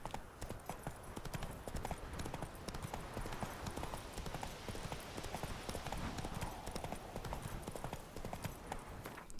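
Galloping horse hooves in The Witcher III, a steady, fast clip-clop rhythm that runs dense and continuous throughout, fairly quiet, with faint voices now and then.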